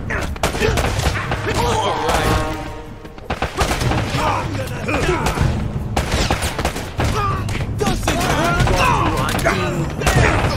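Dense gunfire from the video game Uncharted: Drake's Fortune, bursts and booming shots layered continuously with game music and shouting voices throughout.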